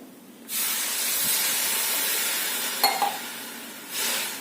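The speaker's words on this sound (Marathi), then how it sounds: "मसाला पण छान भाजला गेलाय आता त्यामध्ये आपण पाणी घालायचंय" Water is poured into hot roasted spice masala in a pan, giving a sudden loud hiss of steam that holds for several seconds, a brief clink partway through, then a second short burst of hissing.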